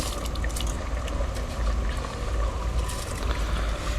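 Soaked ordinary rice tipped into a pot of boiling water, giving a steady watery splashing and bubbling wash with scattered drips, close and continuous, no voices.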